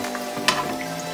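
Fish fries in hot oil as oil is spooned over it, a brief close sizzle with a sharp splash-like burst midway.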